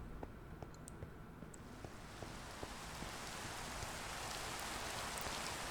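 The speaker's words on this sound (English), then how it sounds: "Now that we're out of the wintry biome, it's just rain over here." Steady rain falling in a Minecraft world, a soft continuous hiss that grows gradually denser and louder, with a few faint clicks scattered through it and no voices.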